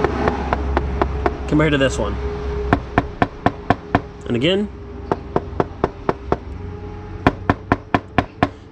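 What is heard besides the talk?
knocking on plastic glove box doors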